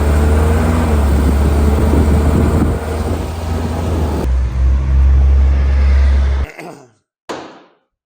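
Junkyard-built off-road car driving with a loud, steady low engine drone and road rumble that runs unbroken for several seconds, then cuts out abruptly into near silence with a brief final burst.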